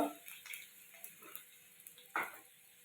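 Crushed garlic with a pinch of asafoetida frying in hot oil after cumin and mustard seeds, a faint steady sizzle with a few soft ticks and pops and one brief louder crackle near the end.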